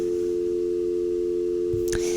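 A failed phone call in the Nancy Drew game Secret of the Scarlet Hand: a continuous flat telephone tone plays alone, briefly interrupted by a soft click near the end.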